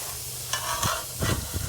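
Tuna steaks sizzle on a hot Lodge Kickoff grill, a crackling hiss with a few sharp pops and scrapes, close and fairly loud.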